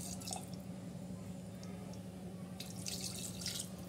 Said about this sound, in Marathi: सूपसाठी वरून हे गरम पाणी